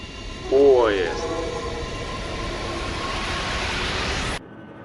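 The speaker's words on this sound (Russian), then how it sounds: "Поезд." A train rolls past a railroad crossing at night in Texas, a sustained rumbling roar with a brief horn-like tone near the start, ending abruptly.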